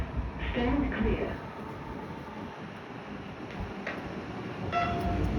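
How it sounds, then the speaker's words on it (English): A suburban train pulls out of West Footscray station with a soft rhythmic rail clatter and mechanical ticking, heard under someone talking on the platform. "Train now departing."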